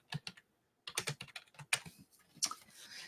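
Quick bursts of typing on a computer keyboard, clusters of sharp key clicks separated by short pauses, close and fairly loud.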